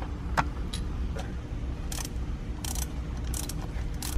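Small metallic clicks and ratcheting taps from bolts being loosened on the silver shifter plate of a Honda S2000, several brief bursts over a steady low background hum, close by.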